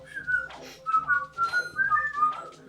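A person whistles a tune, bouncy, clear and close, the melody rising and falling in short phrases.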